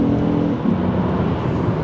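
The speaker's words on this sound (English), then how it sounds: "you can get quite a smooth, quick whoop down the gears, which is really nice" An automatic car's engine blips and revs during a rev-matched downshift, a loud, sustained mechanical roar whose pitch shifts partway through, with no talking.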